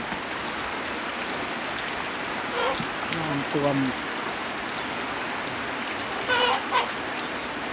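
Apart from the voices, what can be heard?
heavy rain during a storm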